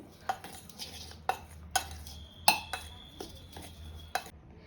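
Dry thalipeeth flour mixed with salt and turmeric in a metal bowl, giving sharp irregular clinks and scrapes of a spoon against the rim, fairly quiet with soft rustling between strikes.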